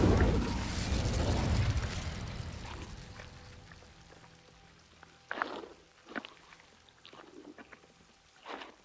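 Confringo and Incendio spell effects in the video game Hogwarts Legacy: a loud fiery burst that roars and slowly fades, followed by several sharper crackling impacts spaced apart.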